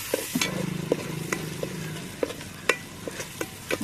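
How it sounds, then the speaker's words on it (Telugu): Tomato pieces frying with ginger garlic paste in a pan for an Andhra country chicken curry, a steady close sizzle broken by sharp scraping clicks of a spoon stirring, with no talk. "ఇప్పుడు ఈ టమాటా ముక్కలను కూడా బాగా మగ్గించుకోవాలి."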